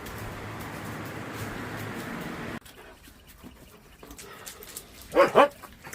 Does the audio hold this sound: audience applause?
no